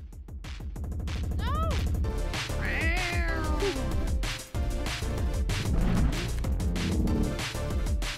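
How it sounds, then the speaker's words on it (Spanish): Meows and caterwauls from a cat character in the Super Crush KO video game ring out repeatedly over busy game music and impact effects, loud and up close. "¡Mi gato!"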